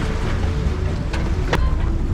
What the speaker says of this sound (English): We've been running the engine because we're making water